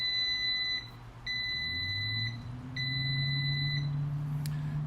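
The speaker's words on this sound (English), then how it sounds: "Typical Instant Pot or Instant brand device is going to beep at you 3 times to let you know that it's going." An Instant Vortex Plus air fryer, set to 400 degrees for 20 minutes, gives three clear electronic beeps on starting, evenly spaced and close by, over a low steady hum.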